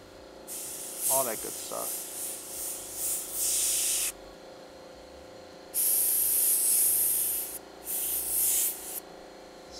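Airbrush spraying white paint onto a shirt, hissing in several bursts of a few seconds each separated by pauses, with someone talking briefly near the start.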